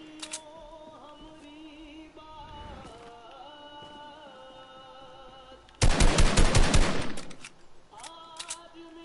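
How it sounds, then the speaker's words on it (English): Rapid automatic gunfire bursts loudly in a video game, a dense rattling volley lasting a few seconds over a steady droning game background, with a few softer shots trailing after. "I'm shooting"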